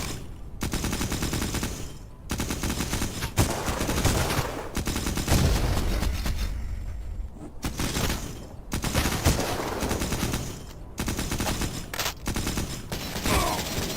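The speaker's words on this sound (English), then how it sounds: "Guess that guy's never gonna stop shooting." Rapid gunfire from the retro horror shooter Cultic rattles in loud, repeated bursts of shots with short gaps between volleys, close and dominant throughout with no talk.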